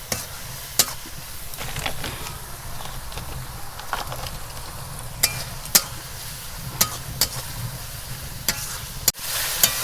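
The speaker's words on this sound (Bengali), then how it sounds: "এবার আমি মশলাটাকে ভালো করে কষিয়ে নেব।" Spice masala for chicken kosha fries in a pan with a steady sizzle while a spatula stirs, giving sharp scraping clicks every second or so, close up and without talk.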